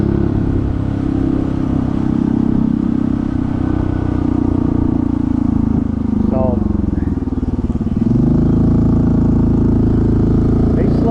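A Honda CT125 with a big bore kit and a 15-tooth sprocket pulls hard in third gear, its engine droning loud and close with a steady rising note and a brief gear-related dip midway.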